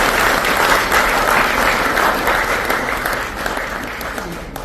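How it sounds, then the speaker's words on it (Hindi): Loud sustained applause from an audience at an event in the British Parliament after a dance performance, dense steady clapping that fades slightly toward the end, with crowd voices underneath. "ये राग सुधा के लिए जोरदार तालियां।"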